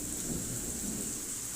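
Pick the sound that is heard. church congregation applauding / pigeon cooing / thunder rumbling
thunder rumbling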